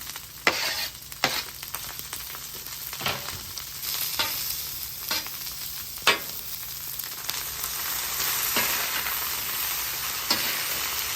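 Beef sizzles steadily on a hot griddle in a quick sauté, a continuous close frying hiss broken by repeated sharp scrapes and taps of a spatula against the metal.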